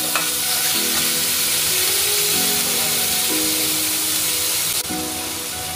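Green chillies frying with stirring in a spice masala for doi katla fish, a steady loud sizzle with scraping stirs and shifting tones, no talk.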